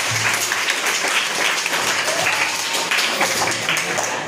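Audience applause at a trust event in Davanagere, a steady dense clapping that fills the whole stretch without a break, loud and close.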